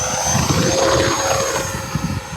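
An RC F-86 Sabre model jet with a 64mm electric ducted fan taking off, a loud, steady, high-pitched whining roar that holds strong throughout, heard alone without talk.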